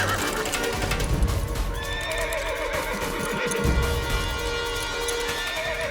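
A horse in a period drama setting whinnies loudly and repeatedly, the neigh rising and trailing over steady hoof clip-clop and background commotion, with no speech.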